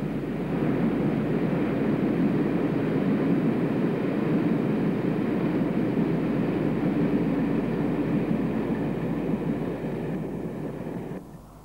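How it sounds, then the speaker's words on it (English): A Class 25 diesel locomotive hauls a coal train past semaphore signals at Greaves Sidings between Leamington Spa and Banbury in 1983, a steady loud rumbling drone that holds for about ten seconds before easing away. "this Class 25 is seen at Greaves Sidings between Leamington Spa and Banbury in 1983"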